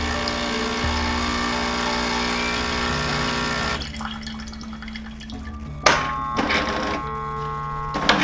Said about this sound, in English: This machine will rinse itself when you turn it on or even when you turn it off.